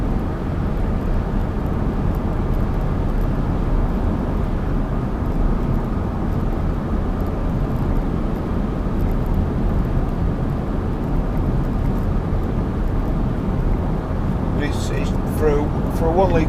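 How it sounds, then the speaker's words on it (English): A 2012 Smart Fortwo Coupe Passion mhd Softouch with a 1 litre engine drives along, giving a steady, even low drone of engine and road rumble throughout, with a few brief higher chirps near the end. "For a 1 litre engine, this car is just not working hard at all"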